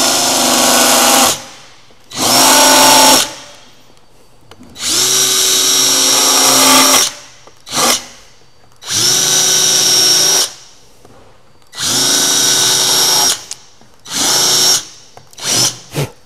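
Power drill with a worn countersink bit boring into a router sled baseplate, loud whining bursts of a few seconds each, separated by short pauses and quick blips as the trigger is pulsed.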